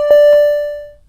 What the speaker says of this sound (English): I'm just using one oscillator. You know, that's just a straight sine wave tone right there.